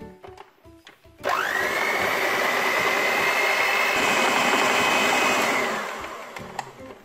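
Electric mixer beating carrot cake batter made with eggs, oil and sugar, switching on with a loud steady whir that holds for several seconds and then winds down, close up with no talking.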